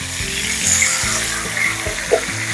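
Pieces of elephant foot yam deep fry in hot oil, a continuous bubbling sizzle with scattered pops and a small splash, close and moderately loud with no speech.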